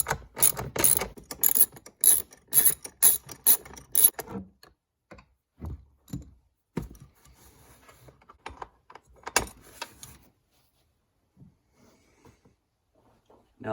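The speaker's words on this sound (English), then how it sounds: "we're going to need to get this 10mm hold down bolt off" Rapid ratchet wrench clicks loosening a 10mm battery hold-down bolt in a 2019 Dodge Charger Hellcat, loud bursts of ratcheting at first, then slower scattered clicks and clunks that fade to near silence.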